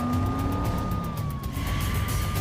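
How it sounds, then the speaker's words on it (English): A police car siren wails steadily as the car accelerates through traffic, over the rumble of the moving vehicle and road noise, loud and continuous throughout. "The officer turns on the siren and accelerates through traffic."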